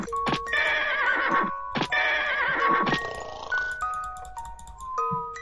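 Horse neighing in the video game Snoring, several loud whinnying calls in quick bursts with clip-clop hooves, followed by chiming game tones.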